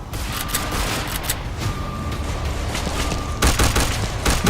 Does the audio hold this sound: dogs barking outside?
no